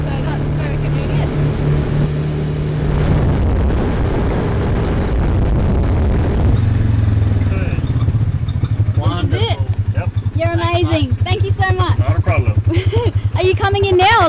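A Polaris ATV engine runs while riding, giving a steady low drone with a rough rumble throughout, and voices talk over it in the second half.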